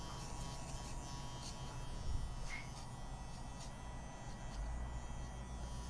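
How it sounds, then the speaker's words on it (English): Electric hair clippers buzz steadily through a fade haircut, a continuous close motor hum that holds for the whole stretch with no talking. "They're a great clipper without a doubt."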